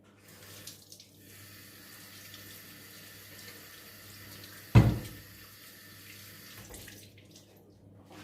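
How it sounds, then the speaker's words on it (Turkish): Tap water runs steadily into a kitchen sink while a container is rinsed, a constant close hiss with a sudden loud splash midway as the stream hits the vessel, then settling back to a steady flow. "Kenarını iyice bir yıkayacağım."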